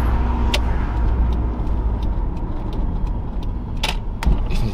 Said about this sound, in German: Achtung, jetzt kommt der Blinker.